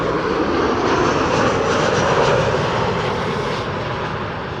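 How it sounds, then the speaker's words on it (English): A Saudia Boeing 787 Dreamliner on final approach to runway 36R at Amsterdam Schiphol roars loudly and continuously overhead, a broad engine rumble that swells and holds without any voices. "Saudia Dreamliner arriving from Jeddah."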